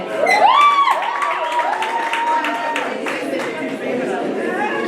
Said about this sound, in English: round of applause for Shea